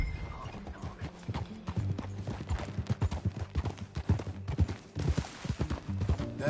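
Horse hoofbeats in the video game Red Dead Redemption 2 make a brisk, rhythmic clip-clop of a ridden horse at a steady pace, loud and close, with some soft background ambience.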